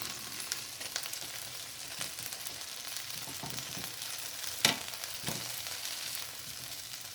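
Lemongrass chicken wings sizzle steadily in an air fryer basket as they are flipped over, with a few sharper clinks and scrapes of turning against a continuous crackling fry.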